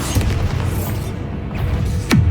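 A Bombarda blasting spell goes off in the video game Hogwarts Legacy as a loud, full boom that rumbles low throughout, with a sharp burst near the end.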